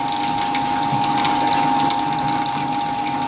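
A Fisher & Paykel Smart Drive GW712 washing machine draining, a steady close whirring pump drone with rushing water over a constant hum, with no voices.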